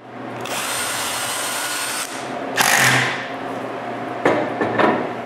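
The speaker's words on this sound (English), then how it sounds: "So I screw a faceplate in the center, directly to the front of the plate." A power drill drives screws through a metal faceplate into the center of a wooden plank being made into a turned plate, with a sustained whir and then short bursts of buzzing and knocks.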